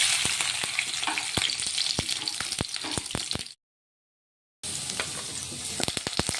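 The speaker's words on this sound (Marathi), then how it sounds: "तर आता तेल गरम झालेलं आहे, त्याच्यात जिरे मोहरी टाकून घेऊ आपण।" Cumin, mustard seeds and chopped garlic crackling in hot oil, a loud, continuous sizzle with sharp popping seeds and stirring, cutting out abruptly for about a second before the frying resumes.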